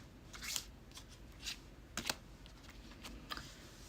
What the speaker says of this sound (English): I think we have 2 different people here, and 2 different cards flew out.